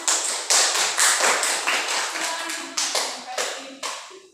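A classroom of students claps for a classmate during a lesson, a burst of fairly close, loud hand claps that start and stop in uneven waves, with some voices mixed in.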